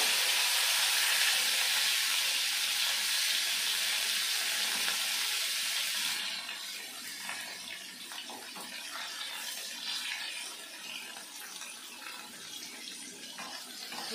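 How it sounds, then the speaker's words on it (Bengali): Chopped tomato sizzles in a pan for a Bengali mustard-paste fish dish, a loud bright hiss that suddenly drops to a quieter sputter with faint stirring scrapes. "টমেটোটা ভাজা ভাজা হয়ে গেছে"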